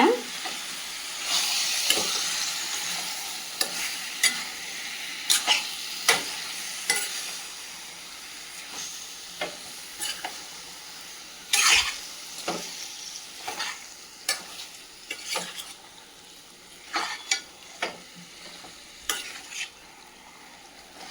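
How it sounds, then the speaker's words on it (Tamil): Chicken sukka sautés and sizzles in a pan, with a steady frying hiss broken by repeated sharp scraping stirs of the spatula at irregular intervals. "நல்லா ஒரு 10 நிமிஷம் வதக்கி விடுங்க."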